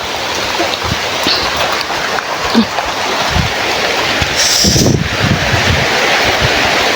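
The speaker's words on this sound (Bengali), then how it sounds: "ভালো বৃষ্টি পড়ছে জোরে জোরে" Steady, dense rush of heavy rain fills the clip, loud and constant with a few thumps and gusts mixed in, no talking.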